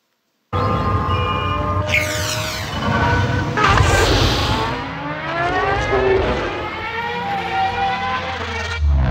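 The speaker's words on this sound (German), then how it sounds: "Also so klingt er letztendlich, der Podracer in dem Film." A Star Wars podracer sound effect plays from a speaker at a re:publica 2014 talk, a loud, whining, buzzing engine roar that sweeps and pitches up and down as if flying past, continuous for several seconds.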